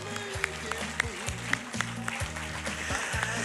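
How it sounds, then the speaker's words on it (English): An audience at a delegate debate hosted by a chamber of commerce gives a round of applause, with steady, moderately loud clapping throughout. "we invite the audience to give you a round of applause for your participation"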